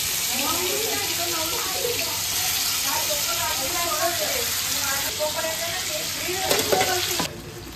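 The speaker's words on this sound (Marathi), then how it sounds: "कोलंबी मस्तपैकी फ्राय चालू आहे" Prawns fry in a pan for a Marathi home-style kolambi dish, giving a loud, steady sizzle with stirring scrapes throughout and a brief louder rattle near the end.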